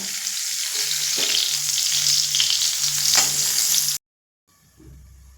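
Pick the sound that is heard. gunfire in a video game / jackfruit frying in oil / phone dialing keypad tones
jackfruit frying in oil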